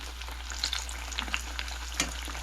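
Panko-breaded eggplant fries in a pan at an off-grid outdoor cooking spot in Hawaii, giving a soft, steady sizzle with scattered small crackles and pops over a low background hum.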